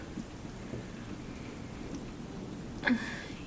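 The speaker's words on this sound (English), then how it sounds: "Just hearing the rain hit the roof." Rain patters steadily on a greenhouse roof in a soft, continuous wash, with one brief brighter knock near the end.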